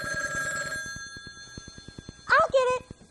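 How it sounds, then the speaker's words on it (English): Telephone in a home ringing with a trilling bell tone, a ring burst at the start and two quick ones later, over a soft ticking pulse. "it isn't polite to ignore a ringing telephone either"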